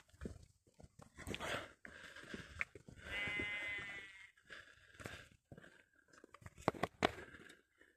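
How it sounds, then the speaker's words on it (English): A sheep bleats once in a dark outdoor spot on Pendle Hill. The wavering call stands out briefly among rustling, footsteps and handling noises close by. "Maybe I scared the sheep and it don't want to do it again."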